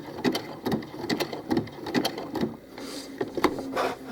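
A sewing machine stitches decoration onto a doll shirt in quick rhythmic bursts of needle clatter, pausing briefly as the presser foot is lifted and the fabric turned, then resuming nearby.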